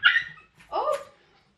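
A dog gives a short bark or yelp indoors, followed by a second whining, rising vocalisation, close and fairly loud with brief gaps between.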